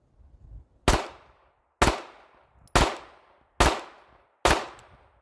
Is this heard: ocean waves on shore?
no